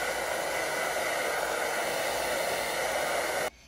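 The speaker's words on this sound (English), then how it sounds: "hold the blow dryer with this and just blow it all up now" A handheld blow dryer drying hair hisses as a steady, close airflow roar for several seconds, then cuts off abruptly.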